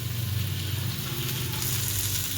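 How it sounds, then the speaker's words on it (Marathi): Chillies and garlic roasting in a hot pan, giving a steady, close sizzle and crackle that runs without a break and without speech. "मिरच्या आणि लसूण थोडा एडावाकडा याच्यासोबत भाजून घेते मी आता"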